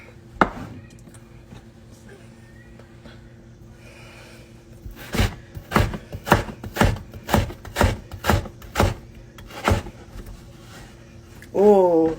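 A kitchen knife chops food on a cutting board at home. About a dozen sharp, evenly spaced thuds come close and loud in a steady rhythm, with quiet room sounds before them and a brief voice at the end.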